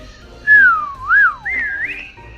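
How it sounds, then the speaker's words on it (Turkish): A person whistles a short wavering tune of three rising and falling notes in a Roblox hide-and-seek game, clear and close, with quiet background hum. "O da ıslık çaldı ben de ıslık çaldım arkadaşlar."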